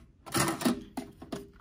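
A cassette is loaded into a Marantz 5420 top-loading tape deck, heard as a quick series of close, sharp plastic clicks and clunks of the mechanism, with no voices.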